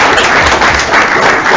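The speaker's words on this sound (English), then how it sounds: "If you guys can go ahead and give them a round of applause too" Loud, dense applause from an audience at a city council meeting honoring service volunteer award recipients, a steady close wash of many hands clapping with no pauses.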